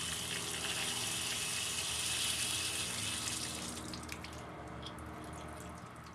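Water runs steadily from an opened outdoor spigot, a broad continuous hiss and splash, close and fairly loud, easing slightly toward the end.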